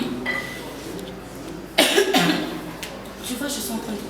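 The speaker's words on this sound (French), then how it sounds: "je suis en train de tousser" Close, loud coughing bursts in the middle of a French-speaking woman's phone-style conversation, a double cough cluster standing out above her quieter talk.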